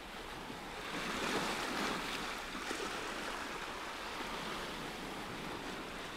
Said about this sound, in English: One more wave.